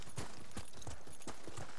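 Hoofbeats of a brown horse in the video game Ghost of Tsushima, a steady loud clip-clop with about two strikes per second, heard close with no talk over it.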